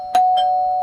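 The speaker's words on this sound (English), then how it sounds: "The doorbell kept ringing." A doorbell chimes twice in quick succession, loud and close, with a steady ringing tone sustained between and after the strikes, in a quiet indoor setting.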